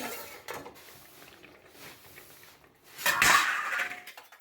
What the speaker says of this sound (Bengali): আমি এবার ওটাকে ঢাকনাটাকে খুলে দিচ্ছি